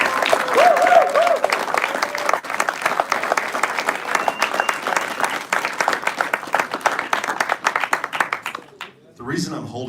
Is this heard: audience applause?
yes